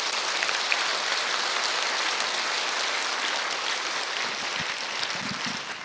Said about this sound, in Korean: 위로의 박수를 한번 드립니다